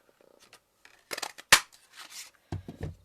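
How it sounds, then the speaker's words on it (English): A Stampin' Up! paper punch clicks and crunches through paper in a few crisp, close bursts, one sharp snap standing out, among quieter handling rustles and no talk. "And punch another one"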